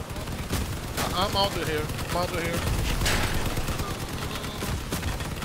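Armed vehicles in the video game Crossout fire in rapid bursts, with repeated gunshots and machine-gun rattles over a constant engine-like drone, while a player talks over the action.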